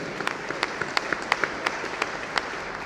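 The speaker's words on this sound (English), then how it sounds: "I think you guys deserve a big round of applause." Audience applause at the TiE Global Summit 2022 at HICC Hyderabad: scattered, fairly thin claps ring out in an uneven rhythm across a large hall, moderately loud with a steady room murmur beneath.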